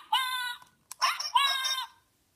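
Little Live Pets toy mother duck gives two short electronic bird-like calls, loud and close, with a brief click between them and silence after.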